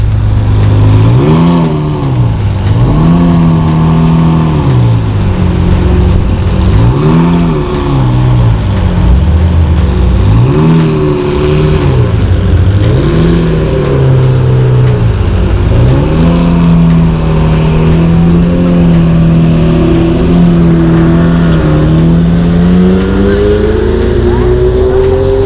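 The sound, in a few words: V12 supercar engine revving in Monaco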